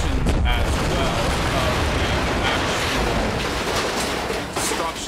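Dense, continuous rumbling blasts and rapid gunfire from the survival video game Rust, loud and sustained throughout with heavy low-end booms, a narrator's voice faintly underneath.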